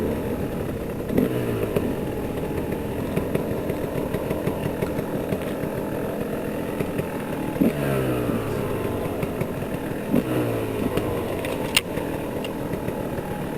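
A Kawasaki KLX dirt bike engine working downhill through snow on a steep wooded route, its close, steady drone rising and falling with repeated revving swells throughout, with no talking.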